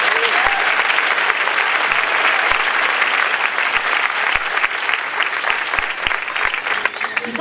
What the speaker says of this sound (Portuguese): Dê um aplauso para a Bíblia Sagrada.